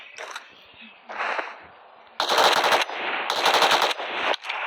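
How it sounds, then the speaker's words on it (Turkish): Automatic gunfire in a video game rattles out in two loud, close bursts, with softer shots and a voice talking before them. "Bakın buradan vuruyorum."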